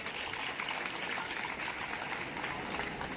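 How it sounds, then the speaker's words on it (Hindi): A steady wash of crowd applause at a college speech event, heard from a distance and fairly faint, with no clear individual claps. "इस बात के लिए जोरदार तालियां बजाइए।"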